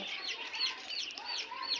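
Chickens cluck and chirp continuously, a busy flock close by on a poultry farm with overlapping calls and no talking, the birds panting in the heat.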